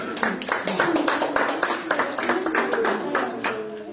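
An audience at a marimba course closing ceremony in Jacaltenango claps in a steady, moderately loud patter of overlapping handclaps while a person talks over them.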